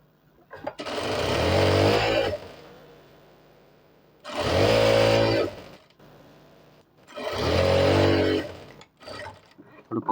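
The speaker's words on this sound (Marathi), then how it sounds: "आपली जी बटन पट्टी ती अशी याच्यावर ठेवायची, आणि एक दाबची शिलाई मारायची" A sewing machine runs in three sustained bursts of motor whir and rapid needle stitching, close and loud with short pauses between, while a shirt button placket is sewn down.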